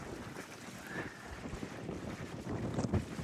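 Wind buffets the microphone on the open rear deck of the Fred Olsen cruise ship Bolette at sea, a steady gusty rumble with faint wave and ship noise beneath, no talk.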